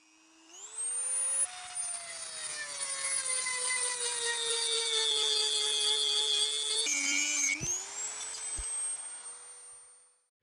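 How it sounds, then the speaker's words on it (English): A Dremel rotary tool cuts through a metal post for cable railing with a steady high-pitched whine. It spins up, grinds continuously for about nine seconds with a brief dip as the load shifts, then winds down, heard close with no talking. "I'm going to use my trusty Dremel"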